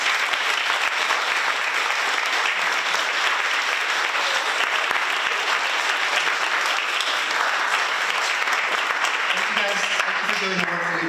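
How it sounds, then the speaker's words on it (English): An audience at a community event in Philadelphia gives a steady, enthusiastic round of applause, with clapping continuous and even throughout and a brief voice near the end. "so let's give a round of applause for our wonderful fellows."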